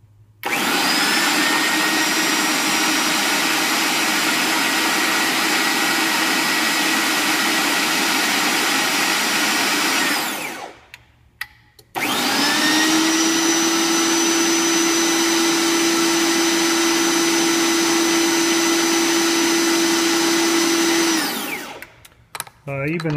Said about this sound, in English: so we will activate our machine.